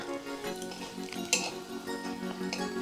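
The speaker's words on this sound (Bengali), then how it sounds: "আলু এবং পনির ভাজার তেলের মধ্যেই আমি ফোড়নটা দিয়ে দিতেছি" Two dry red chillies and a bay leaf dropped into hot oil left from frying potato and paneer, giving a steady close sizzle under a humming tone, with a single clink of a utensil partway through.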